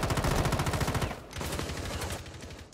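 Rapid automatic gunfire from the operator Vigil in Rainbow Six Siege, a dense stream of close shots for about a second, then a brief gap and a second burst of steady firing.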